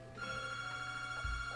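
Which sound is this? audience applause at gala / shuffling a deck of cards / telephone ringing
telephone ringing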